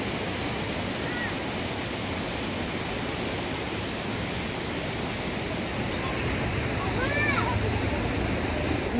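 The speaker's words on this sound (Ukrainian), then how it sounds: "Потужний теж водоспад, він не дуже високий, але такий потужний." A powerful Carpathian waterfall, not very tall, roars as a steady, dense rush of water across the whole clip, with faint bird calls above it.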